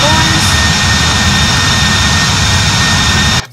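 Loud, steady jet engine roar from an American Airlines airliner heard from the cabin by a left side window near the wing, a continuous broadband drone with a faint high whine that cuts off abruptly at the end.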